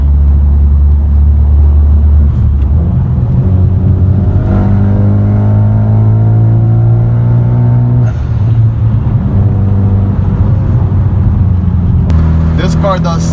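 A 2013 Hyundai Genesis Coupe R-spec with an SFR tune and increased boost is driven hard through a corner. The engine drones loud and close from inside the cabin with rising and falling revs and shifts, while someone talks over it.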